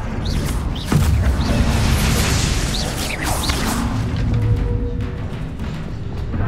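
The Expelliarmus spell is cast in the Hogwarts Legacy video game amid dense, loud combat: whooshing swishes, booming impacts and a crashing burst. Chirping magical effects sweep over a continuous rumbling bed.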